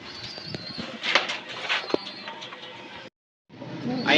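Racing pigeons cooing softly at close range, with repeated low coos, light rustling and wing movement, broken by a brief gap of silence near the end.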